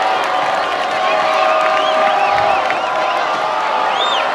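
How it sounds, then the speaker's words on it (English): Crowd cheering and whooping in the stands at a high school football game between Logan and Mountain Crest, a loud, sustained roar with scattered shouts and whistles under an announcer's commentary. "And now the crowd starts making some noise."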